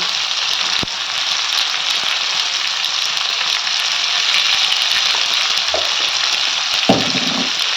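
Onions frying in a pan with green chili and salt, a loud continuous sizzle held steady throughout, with a couple of soft stirring knocks near the end.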